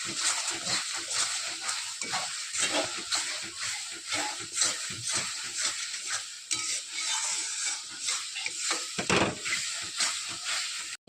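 Spice masala for a desi chicken curry fries in a pan, a steady close sizzle and hiss with uneven scraping stir strokes throughout.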